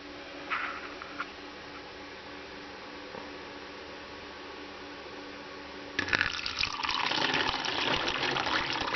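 Water is poured through a funnel and coffee filter into a milk jug at an off-grid solar camper, starting as a faint trickle and swelling into a steady, louder splashing pour over the last few seconds.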